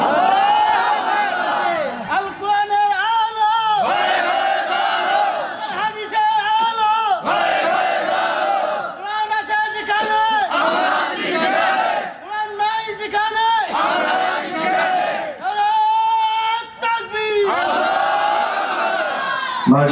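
A large gathering at a religious sermon in Rangamati chants takbir together, rhythmic shouted phrases rising in loud repeated bursts, with many voices merging into a roaring, cheering chorus throughout.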